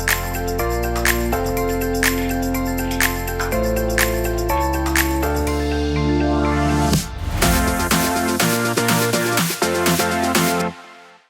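Electronic music passage moving through a transition smoothed with reverb and ping pong delay, steady beat and synth chords washing into a denser section before ending abruptly, loud with no voices.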